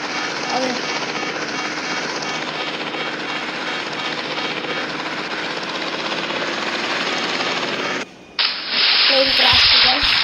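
A helicopter in a pilot simulator video game drones with a continuous rotor and engine roar, which cuts off abruptly near the end and gives way to a harsher, brighter noise burst.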